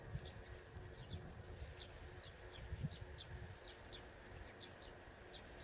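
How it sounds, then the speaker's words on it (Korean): Birds call faintly in the distance near reeds on a breezy day, a series of small high chirps repeating at a steady pace over a low wash of wind and background noise. "이곳에는 지금 새소리가"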